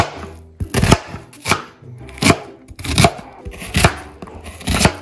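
A knife chops a red onion on a cutting board: about six firm, evenly spaced thuds, close and crisp, with soft scraping between strokes.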